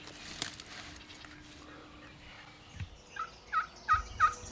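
Wild turkey gobbling during a Nebraska spring turkey hunt, a run of four or five rising, rattling gobbles repeated in quick succession at moderate distance, growing louder toward the end over quiet outdoor background.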